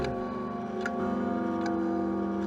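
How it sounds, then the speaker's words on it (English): A clock ticks steadily in the Discworld 2 video game, with sharp ticks at an even, slow pace over a sustained tonal music bed, fairly near and clear, with no talking. "What a lovely, brutal swooshing sound this clock makes."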